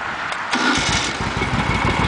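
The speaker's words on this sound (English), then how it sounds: "Beautiful. Starts right up." A 1971 Moto Guzzi motorcycle with new Dunstall replica pipes cranks and fires up, catching within a second and settling into a loud, close, lumpy idle.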